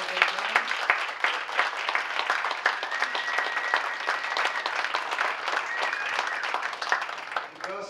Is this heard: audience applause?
yes